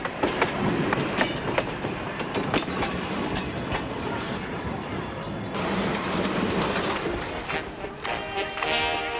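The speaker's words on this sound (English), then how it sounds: "this circus train, which snakes through the same land the early Ringling Wagon circuses did more than a century ago" A Ringling circus train rolls along the rails with rhythmic clickety-clack of wheels over track joints, a steady rumbling run with intermittent metallic clanks, fairly close and continuous.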